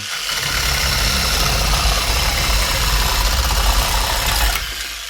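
An AL-KO HS 2015 18 V cordless reciprocating saw buzzes steadily as it cuts through boards, a loud continuous motor drone with rattling vibration, close up, stopping near the end.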